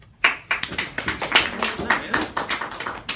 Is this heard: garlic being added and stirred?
no